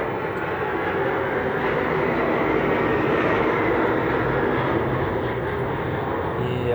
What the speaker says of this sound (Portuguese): Que passa avião aqui onde eu moro.